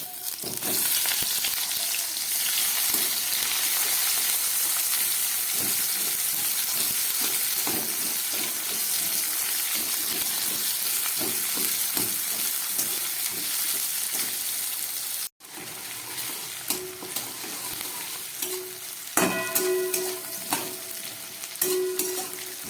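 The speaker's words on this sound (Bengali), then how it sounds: "আলু ভাজাটা হয়ে গেছে এবার এর মধ্যেই আমি দিয়ে দিচ্ছি কেটে রাখা পেঁয়াজ" Steady, loud sizzling of chopped onion frying with potatoes in a pan, with occasional stirring scrapes and a brief break before the sizzle resumes with clicking crackles.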